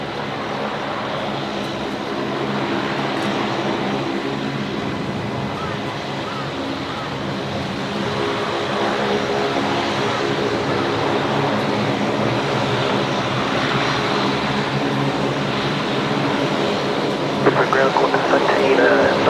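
A Qantas airliner takes off from runway 01 right at Brisbane Airport, a loud continuous jet engine roar that builds steadily and holds, with radio voices talking over it.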